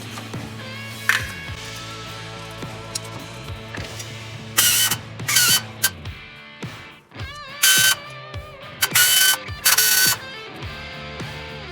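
A ratchet wrench works loose the header bolts on an engine being pulled from a car with a manual transmission, with bursts of rapid clicking and scraping metal, close and loud, between quieter clanks and handling noise.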